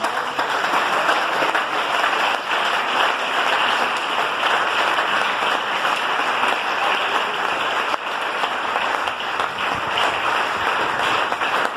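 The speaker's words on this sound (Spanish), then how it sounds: "Denle ese aplauso al Señor." A church congregation applauds steadily during a sermon, a dense, continuous wash of clapping that fills the room at even loudness for the whole stretch with no talk over it.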